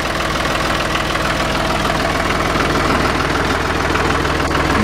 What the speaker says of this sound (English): It's a real nice sounding tractor.